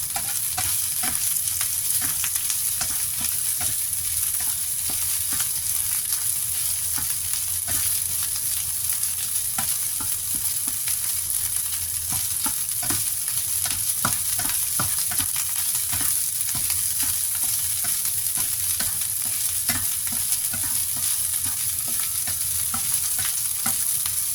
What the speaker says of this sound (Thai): ผัดแป๊บหนึ่งจ้ะ